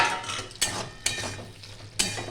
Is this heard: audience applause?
no